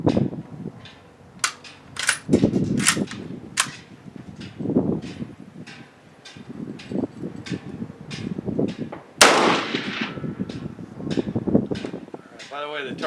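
A Mosin Nagant rifle fires 7.62x54R rounds at a steel torso target 100 yards out. Several sharp, loud cracks come at irregular intervals with a strong blast about two-thirds through, and people talk between the shots.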